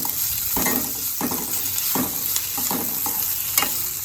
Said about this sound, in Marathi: टोमॅटो स्टर करया